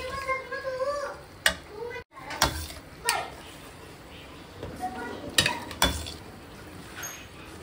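Pasta and vegetables are stirred together in a pan, giving scattered clinks and scrapes of a utensil against the pan, with a few sharper knocks at irregular intervals over quiet kitchen background.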